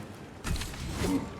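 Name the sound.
weapon magazine being changed in a video game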